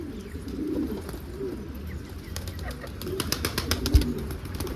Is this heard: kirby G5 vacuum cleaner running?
no